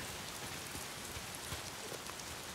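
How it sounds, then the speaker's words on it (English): Steady rain pouring in the video game Days Gone, a dense, even hiss of drops hitting surfaces with occasional louder patters, no voices. "If it's not the freaks, it's the goddamn rain."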